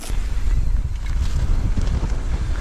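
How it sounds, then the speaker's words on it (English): Strong wind buffets the microphone on an exposed hilltop during a mountain bike shuttle ride, a steady low roaring rush with gusty swells throughout and no talking. "Ooh, it's windy up here."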